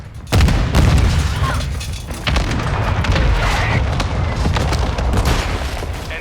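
Dense, loud run of booms, blasts and gunfire from a mortar strike during a Domination match on the Shipment map in a video game, explosions overlapping almost without pause from start to end.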